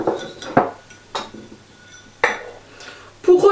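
A spoon scrapes and clinks against a bowl while stirring a beetroot and carrot mixture, giving several sharp, separate knocks spaced across a few seconds in a quiet kitchen.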